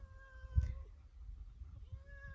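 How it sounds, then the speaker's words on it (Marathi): A farm cat living at a neighbour's cattle shed gives a single short meow, fairly faint against low background rumble, with no talking. "तर का मांजर आले"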